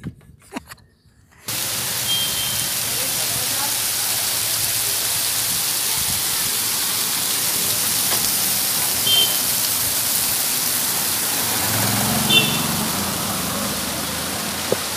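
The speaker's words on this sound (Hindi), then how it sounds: "तो ये था हम लोग का पहला वाटरफॉल" A monsoon waterfall at Malshej Ghat roars as a constant broadband rush after a brief quiet start, steady and enveloping with no speech over it.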